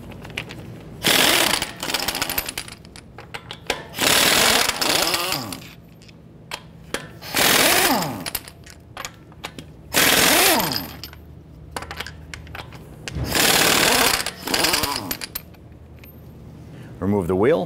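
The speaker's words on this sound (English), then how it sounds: "Using our 22 millimeter socket, we're gonna go ahead, loosen, and remove our lug nuts." Loud bursts of an impact wrench loosening lug nuts with a 22 mm socket on the front wheel of a 2009-2015 Honda Pilot, roughly five to six buzzing runs of a second or two each, with quieter pauses between them.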